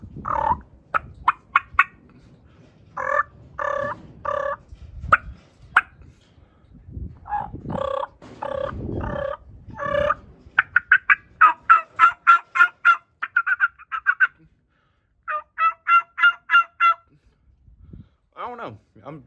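A hand-worked turkey call imitates gobbles while someone practises calling for turkey season, giving repeated rapid bursts of raspy, rattling notes with short pauses between runs.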